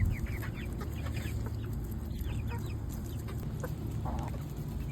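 Backyard hens cluck and chatter steadily while pecking at black soldier fly larvae, a busy, close flock sound over outdoor farmyard ambience with no talking.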